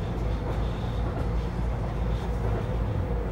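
A steady, low rumbling drone of a moving six-car JR 253 series electric train, continuous and even throughout with no voices.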